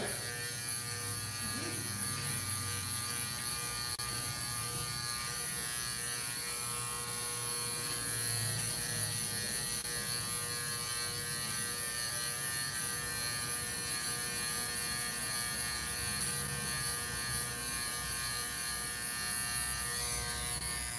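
Electric hair clippers fitted with a one guard buzz continuously and close-up while cutting a boy's bald fade, a steady droning hum with slight shifts as the blade moves through the hair.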